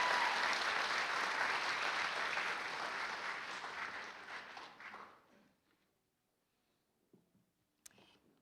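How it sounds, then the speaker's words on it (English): Sustained applause from an audience honoring 11th graders at an awards ceremony, steady for about five seconds before fading out, with a couple of faint late claps. "give you a collective applause"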